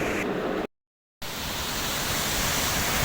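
Urmagada waterfall near Phulabani, Odisha, a dense broadband roar of rushing water, loud and close, briefly cut to silence before resuming steadily with no talk.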